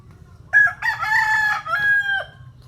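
A rooster crows loudly and close in one long, wavering call, with chickens clucking faintly underneath, and no talking.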